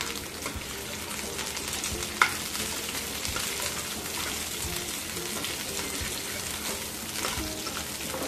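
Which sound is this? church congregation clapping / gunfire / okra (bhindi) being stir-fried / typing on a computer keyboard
okra (bhindi) being stir-fried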